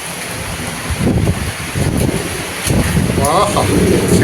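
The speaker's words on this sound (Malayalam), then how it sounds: "എന്തായാലും ശക്തമായിട്ട് മഴയും കാറ്റുമാണ്, ഭയങ്കര കാറ്റാണ്" A heavy rainstorm with strong wind and thunder outdoors: a steady broadband roar of rain and wind with gusting surges that swell and ease throughout.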